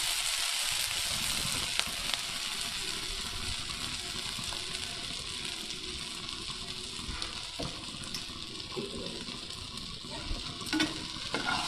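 A dish frying in a pan on a live cooking show sizzles steadily for the whole stretch, with spoon stirring and scraping sounds scattered through it and no talking.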